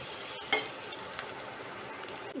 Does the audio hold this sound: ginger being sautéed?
yes